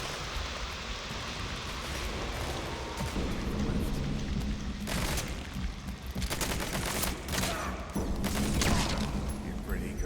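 Gunfire from shooting enemies in Metal Gear Solid V: The Phantom Pain crackles in rapid bursts over a steady rumbling game background, with a voice talking in between.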